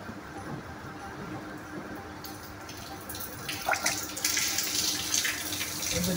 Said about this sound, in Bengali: অল্প একটু পানি, এই যে পানি নিছি